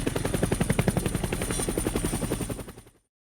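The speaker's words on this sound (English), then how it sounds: "Helicopter." Helicopter rotor chopping in a steady rapid beat with a high whine on top, loud and close, lasting about three seconds before cutting off.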